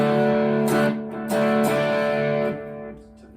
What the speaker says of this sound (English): Let's put the Harley Benton Dr. D on, which is just a bit of crunch.